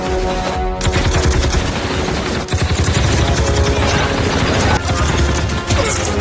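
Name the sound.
gunfire in a film shootout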